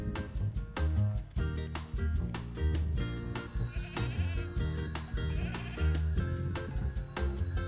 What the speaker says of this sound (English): The surrounding countryside is full of sheep and the occasional very free-range pig.